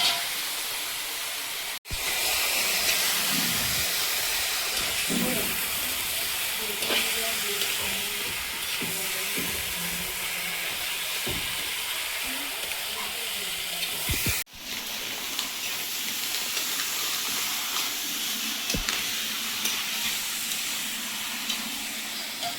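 Meat sizzles loudly in a pan with cumin and coriander, a dense continuous hiss of hot oil held up close, with faint clinks and a quiet voice in the background.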